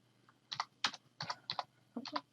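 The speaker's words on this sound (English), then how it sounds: "we can type in here the message that we may want to send to" Typing a message on a computer keyboard: a few light, close keystrokes tapped in small uneven clusters over about two seconds, quiet and alone with no talk.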